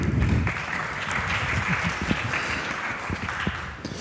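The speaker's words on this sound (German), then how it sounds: "dein Applaus" A live audience applauds as a guest comes on stage, giving sustained, even clapping with a faint roomy rumble underneath and no talk over it.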